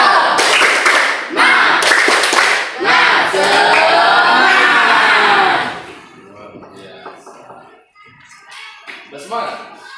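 A schoolroom class performs a rhythmic spirit clap, loud chanted voices over patterned bursts of clapping, then the room settles into quieter talk.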